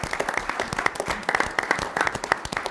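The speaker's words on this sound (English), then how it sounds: "Can we applaud them?" Applause from a modest audience at a city council meeting in Apache Junction, Arizona, with individual claps distinct and irregular, brief and fairly close, no talking over it.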